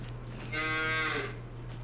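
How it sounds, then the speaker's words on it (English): A single long, close moo from cattle on a farm, loud and drawn out over a steady low background hum. "That might be a baby cow."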